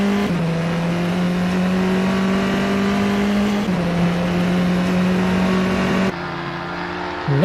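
A British Formula 4 race car at Knockhill circuit holds a loud, steady engine whine, broken by quick pitch drops as it shifts gears, then a sharp change near the end.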